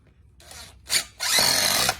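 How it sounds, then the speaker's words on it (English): Power drill driving anchors to fasten down a glass rail mount base shoe: a short burst, a brief whir, then a sustained loud high-pitched whine running to the end, with no talk. "So now that the holes are pre-drilled, we will now fasten down our anchors."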